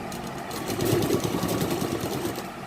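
A sewing machine makes a short stitch on fabric for a neckline design, a brief, close mechanical whir that rises and fades over a couple of seconds.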